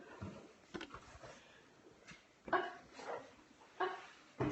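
A dog visiting during a dog-sitting evening barks a few times at moderate distance, short separate woofs spread across a quiet room with faint background noise.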